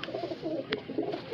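Highflyer pigeons cooing close by, several soft throaty coos overlapping in a low rolling murmur, with a brief sharp click in the middle and no talking.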